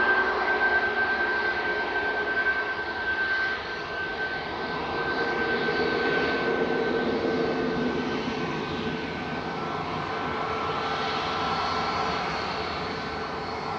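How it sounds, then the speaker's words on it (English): TUI Boeing 787-9 jet airliner arriving at Manchester Airport from Larnaca, a steady, moderately loud engine roar with a thin whine riding on top, heard alone without voices. "This is TUI 787-9-2EM coming in from Larnaca with flight"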